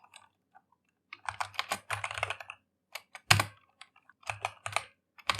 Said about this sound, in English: we're going to type map fragment